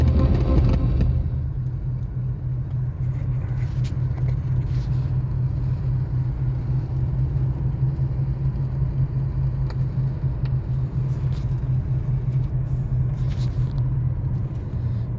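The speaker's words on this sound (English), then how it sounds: "Making a big Caddy turn here." A 1998 Cadillac rolling along and making a wide turn, heard from inside the cabin as a steady low engine and road rumble, continuous and fairly loud with no talking.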